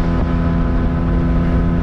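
Small mini motorboat engine running steadily on the water, a loud, close, continuous drone with wind buffeting and no pauses.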